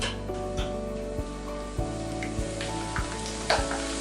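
Crinkle-cut potato wafers frying in hot oil, a close bubbling sizzle overlaid by steady music, with periodic sharp knocks as a slotted spoon stirs the pan.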